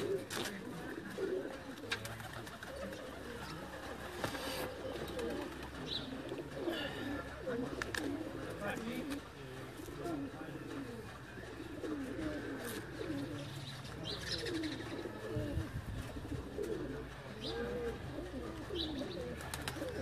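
Batera-breed pigeons cooing on a Sialkot rooftop, soft repeated coos and occasional chirps over steady outdoor ambience, with faint voices in the background at times.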